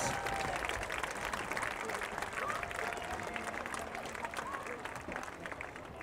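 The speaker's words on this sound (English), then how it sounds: "How about a round of applause for everyone on the homecoming court?" Applause for a homecoming court at a high school football game between the Huntington North Vikings and DeKalb Barons, a broad, distant wash of clapping from the stands with faint crowd noise, steady throughout.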